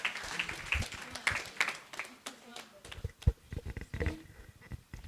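Scattered applause from an audience at a virtual assistant summit keynote, sparse claps close by mixed with a talking voice and whoops, uneven and modest in level.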